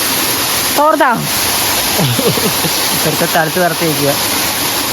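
The steady, dense roar of the Cheli Kuzhi waterfall fills the background as people talk loudly nearby.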